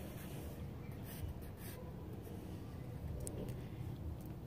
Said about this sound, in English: write our name nice and big on our paper